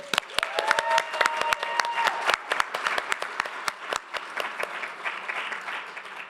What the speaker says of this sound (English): Educators, please give yourselves a round of applause.